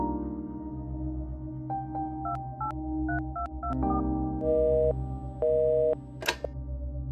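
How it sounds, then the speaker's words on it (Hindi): Phone call failing to connect on a handset, heard as a run of short repeated electronic tones in a stepped pattern, then two longer steady beeps and a brief bright click, over a low steady background hum. "उनका फोन नहीं लग रहा है"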